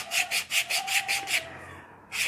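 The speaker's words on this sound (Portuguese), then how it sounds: "PVC, pessoal, é um material que a gente lixa" Rhythmic back-and-forth sandpaper strokes on a piece of PVC, about seven quick rasping passes, a short pause, then one more stroke, close and clear.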